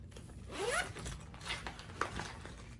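A zipper opens on a flat Focus Research Group plate-bag pouch in a Crye JPC and MRB loadout, a few quick close rasping pulls alone.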